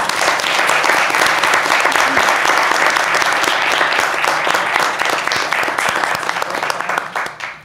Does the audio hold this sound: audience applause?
yes